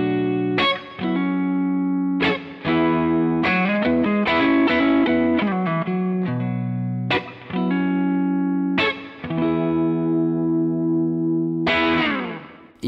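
Electric guitar played through a Marshall Studio amp set for a clean breakup tone: loud, close strummed chords ringing out and decaying between sharp attacks, with a slightly gritty edge and no voices.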